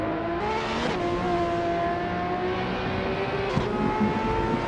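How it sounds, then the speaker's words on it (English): A 2015 Ferrari race car in a racing video game holds a steady, high engine whine with shifting tones, shifting gears twice as it races along, close and continuous with no talking. "The Vin XD is driving a 2015 Ferrari"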